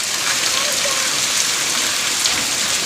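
Steady rain pours down outdoors onto a street flooded after three days of downpour, a dense even hiss that fills the whole stretch without a break.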